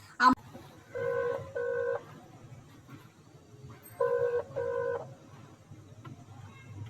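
A phone call rings and goes unanswered: two bursts of the double ringback tone, about three seconds apart, moderately loud, with a brief click at the start and faint room noise between the rings.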